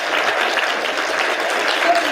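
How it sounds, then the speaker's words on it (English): Steady audience applause at a university guest lecture, dense continuous clapping from a large crowd filling the whole moment at even loudness, no voices standing out. "please join me again in giving him a round of applause."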